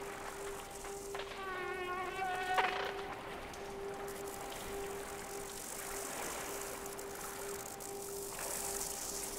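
A fly buzzes in the video game Limbo, a steady thin drone running throughout at low level under a quiet ambient background, with a brief tonal flutter early on.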